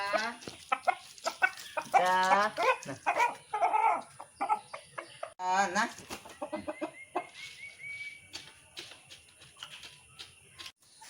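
Several chickens cluck and squawk nearby in bursts, busy and uneven, with other farmyard birds calling over a quiet background.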